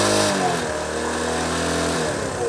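A motorcycle engine on a service stand is briefly revved, rising sharply then settling back toward a steady idle, close and loud with no talk.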